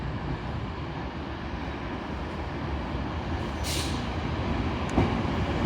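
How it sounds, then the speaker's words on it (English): A Class 156 diesel multiple unit, 156-472, pulls out of Carlisle station bound for Nunthorpe, giving a steady low engine rumble with a brief hiss near the middle and faint clanks toward the end, with no talk. "departing now is 156-472 to Nunthorpe"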